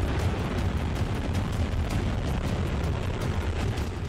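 A weapon blast roars as a sustained, heavy low rumble with crackling bursts rolling on for several seconds, loud and without speech.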